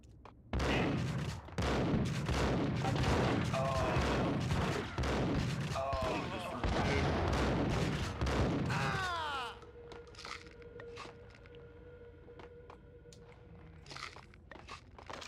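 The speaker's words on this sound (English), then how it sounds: "Start shooting cops here." Gunfire erupts in Max Payne as cops are shot, loud rapid bursts of cracking shots for about nine seconds, then a quieter stretch of scattered clicks and small impacts.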